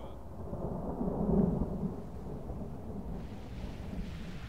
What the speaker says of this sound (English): That lightning is pretty cool, I gotta say.